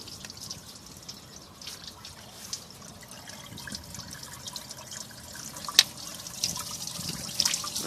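Water trickles and drips steadily out of a car heater core being flushed with a garden faucet turned full blast on about 65 psi city water pressure, a faint continuous wet hiss with a few sharper drips.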